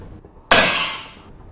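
A single hard hammer blow on a steel bar resting on an anvil, a sharp bright clang with a ringing tail that fades over about a second, close and loud after near silence.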